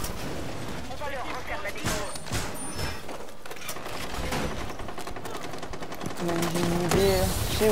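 Rapid bursts of gunfire from the tactical shooter game Rainbow Six Siege rattle in and out over dense game sound, with a few sharp shots standing out and the clatter building toward the end.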